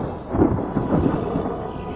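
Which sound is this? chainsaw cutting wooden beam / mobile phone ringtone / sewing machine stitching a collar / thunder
thunder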